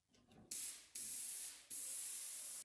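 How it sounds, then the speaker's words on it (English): A paint sprayer set to medium releases three bursts of loud, close hissing spray while testing before painting shiplap trim, each burst lasting roughly half a second to one second with short gaps between them. "Right now I got my sprayer set to about medium."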